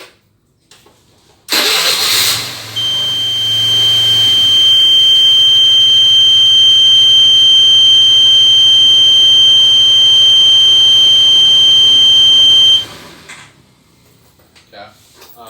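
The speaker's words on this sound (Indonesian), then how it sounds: "sistem akan memperingati pengguna melalui buzzer yang dipasang oleh sistem" A motorcycle oil-change reminder system sounds its installed buzzer warning, a steady high-pitched tone held for about ten seconds over a low engine-like hum, loud and close, with no talk.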